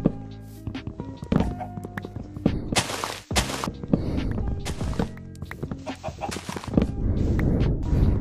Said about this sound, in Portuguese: Todo lado que você olha aqui tem galinha.